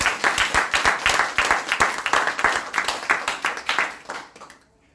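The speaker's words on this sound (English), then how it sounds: "I would like you now to put your hands together again for the Empress." An audience at a London crypto conference claps for a speaker, with distinct rhythmic hand claps in a fairly synchronized, pulsing pattern that carry on for about four seconds before stopping abruptly.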